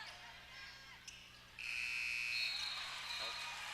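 A long, loud electronic buzzer blares at halftime of a high school basketball game after a short stretch of crowd noise and sneaker squeaks, holding steady for about two seconds.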